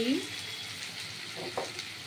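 Garlic, green chili and ginger fry in hot oil, a continuous close sizzle with a few soft stirring scrapes over about two seconds.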